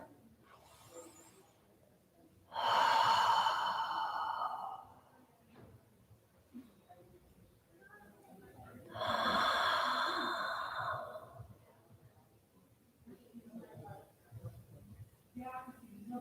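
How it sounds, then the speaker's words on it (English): Slow deep breaths during a yoga class, two long loud exhales several seconds apart, close to the microphone, with quiet murmured voice between them. "Take a few more breaths."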